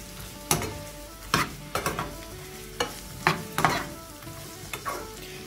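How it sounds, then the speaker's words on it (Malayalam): Finely chopped tomato is stirred into onions and prawns frying in a pan, with a low sizzle under a series of sharp spoon scrapes and taps against the pan. "ഇനി നമുക്കിതിലേക്ക് ഒരു തക്കാളി ചെറുതായി അരിഞ്ഞതിട്ട് കൊടുക്കാം"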